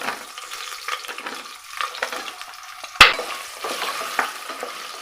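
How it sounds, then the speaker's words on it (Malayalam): Chopped potato sautéed in a pan for a rice dish, giving a steady close sizzle with repeated scraping stir strokes and one sharp clatter of a utensil partway through. "ഇനി നമ്മളിതിലേക്ക് നമ്മൾ അരിഞ്ഞെടുത്ത നമ്മുടെ ഈ ഒരു ഉരുളക്കിഴങ്ങ്"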